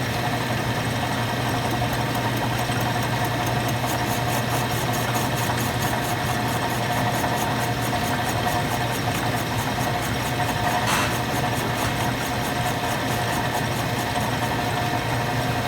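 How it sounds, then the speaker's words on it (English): An Index 645 vertical mill takes a fairly wide cut and chatters, making a steady, dense mechanical rumble and buzz that holds at an even level for about sixteen seconds, with no talk. "You hear a little bit of chatter there because I'm taking a fairly wide cut."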